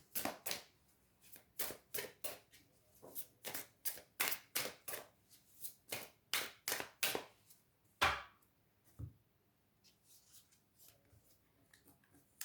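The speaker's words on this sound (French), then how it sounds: "Allez, on va aller prendre une carte des anges déchus." Fallen-angels oracle cards are shuffled and drawn, a long run of crisp rapid riffling snaps at a steady beat, then a sharper card flick and softer rustles near the end, close and quiet with no voices.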